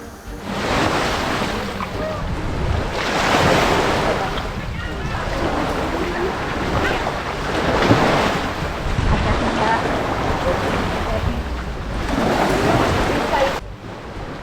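High-tide sea waves surge and wash near a small boat off an Indonesian island, loud rolling swells rising and falling in slow cycles, heavily buffeted by wind noise on the microphone.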